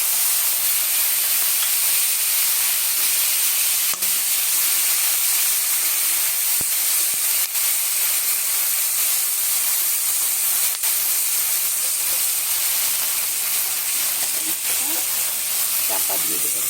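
Fish frying in oil tempered with nigella seeds, a loud continuous sizzling hiss with a few sharp pops and spatters throughout.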